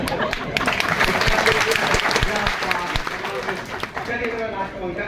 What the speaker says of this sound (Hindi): एक बार साइलेंसर हटा के ताली बजाइएगा